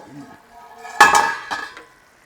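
Lid lifted off a pot of cooking chicken curry, a sharp metallic clank followed by a second lighter clink, close and loud, with a brief voice at the start.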